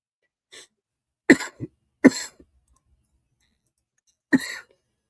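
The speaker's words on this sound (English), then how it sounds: "I'm getting ready to cough my brains out." Three or four sharp, harsh coughs come close to the mic, spaced by pauses, with a faint throat sound before them and silence between.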